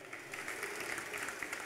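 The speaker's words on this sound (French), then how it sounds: "mesdames, messieurs, on applaudit très très fort la CMA CGM." An audience applauds at the opening ceremony of the 2024 Tour Cycliste de la Guadeloupe, a steady patter of clapping heard at a distance, fairly faint.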